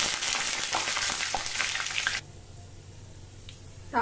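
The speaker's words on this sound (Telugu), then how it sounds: "తాలింపు వేసుకోవాలండి" A South Indian tempering of garlic, two dried red chillies, cumin, chana dal, urad dal, mustard seeds and curry leaves sizzles loudly in hot oil, then cuts off abruptly to a quiet room with a few soft kitchen clinks.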